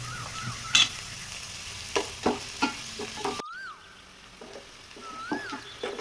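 Green chillies and onions with salt fry in a pan for cabbage egg fried rice, a steady close sizzle broken by several sharp spatula knocks and scrapes as the mix is stirred, with no voices.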